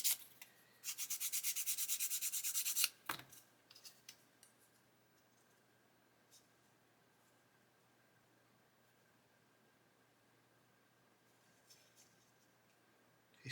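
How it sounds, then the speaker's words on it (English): Sanding the trailing edge of a 1/24 Airfix Spitfire Mk.IXc model part gives a short burst of quick, rhythmic rasping strokes. A clack follows, then near silence with faint scattered taps. "You can see it's only sanding the trailing edge"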